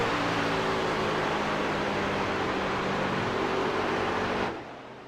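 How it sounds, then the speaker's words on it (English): A Ford race truck's engine at full throttle holds a dense, steady roar on track, then cuts off sharply near the end as the driver shifts to third gear, with no voices. "Now let's listen to the throttle as Jack goes into 3 here."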